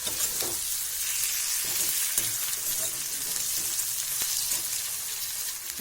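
Chopped tomatoes and onion sauté in a hot pan, giving a continuous, even crackling sizzle throughout with occasional faint stirring taps.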